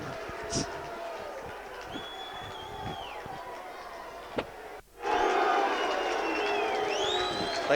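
A stadium crowd at a 1983 rugby league match murmurs and then surges into a louder, sustained roar partway through, with a commentator's voice over the top.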